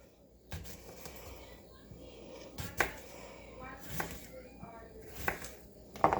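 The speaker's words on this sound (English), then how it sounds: "I'm just going to slice these in about quarter-inch slices" Cucumbers are sliced with a knife into quarter-inch rounds on a cutting board, with sharp, distinct taps every second or so under quiet talking.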